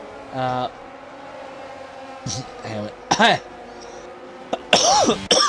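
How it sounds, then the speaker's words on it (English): A man coughs a few short, harsh times at close range during an F1 2022 race commentary, while other voices and the hum of game engine noise continue underneath. "Sorry about the cough."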